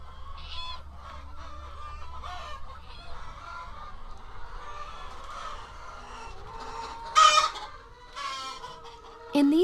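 Hens on an open outdoor pasture give steady clucking and a goose-like honk now and then, with one louder squawk near the end, all at moderate distance and with no talking.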